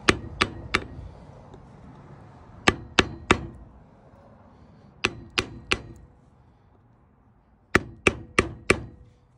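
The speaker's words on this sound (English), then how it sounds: "if you're listening, you can kind of hear it, the sound of the hammer change" Hammer blows ring out on a Dexter 10K trailer axle during inner seal replacement, struck in tight bursts of three, four groups of sharp metallic clangs spread evenly, close and loud with no voices.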